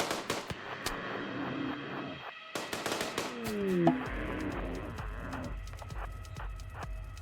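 Gunfire in the colony-sim video game RimWorld, with several sharp, crackling shots in quick bursts, then a brief pause before more scattered reports, moderately loud with no talk over them.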